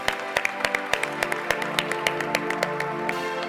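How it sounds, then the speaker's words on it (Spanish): An audience applauds to welcome a speaker at a national education forum, with many sharp claps in a steady, dense patter lasting throughout, fairly close and even in loudness. "Recibamos con un fuerte aplauso a la doctora Diana Paola"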